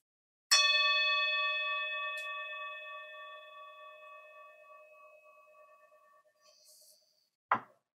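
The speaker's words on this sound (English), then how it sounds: "The sound of the singing bowl invites the eyes to close." A singing bowl is struck once and rings with a clear, sustained metallic tone that slowly fades over several seconds, followed by a brief soft rustle near the end in an otherwise quiet setting.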